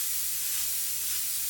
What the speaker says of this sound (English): I have myself spraying a wide spray